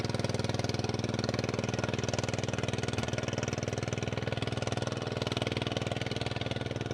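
A tractor engine drones steadily while plowing a sunny rice field, a continuous mid-distance rumble with even pulsing and no voices.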